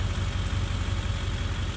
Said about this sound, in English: It's Mom's old car.